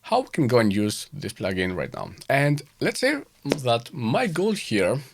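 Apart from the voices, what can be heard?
No everyday noises stand out.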